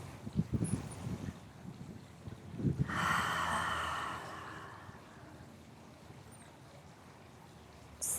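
Slow, audible breathing during a bedtime yoga stretch for the neck and shoulders: a soft breath near the start, then one long airy exhale around the middle, faint and close in a quiet room.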